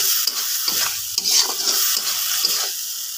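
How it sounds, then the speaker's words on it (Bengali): Dried loitta fish (shutki) is stirred and fried in a pan, loud close sizzling broken by repeated scraping stir strokes in an uneven rhythm, with no voices. "লটকা শুটকি রান্না করতে বসে গেছি আমি।"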